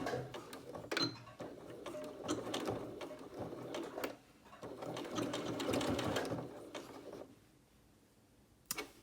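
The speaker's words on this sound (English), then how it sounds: "I'm going to back stitch just like normal, but I'm only going out a couple stitches" A sewing machine runs near a pocket opening, back stitching a couple of stitches through fabric. It whirs close up in uneven bursts with brief pauses and a quieter stretch near the end.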